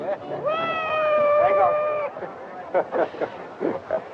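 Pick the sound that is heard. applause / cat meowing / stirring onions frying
cat meowing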